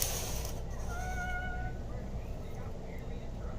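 A cat meowing at a front door at night, one drawn-out faint meow that rises and falls, heard distantly over a steady loud background hiss.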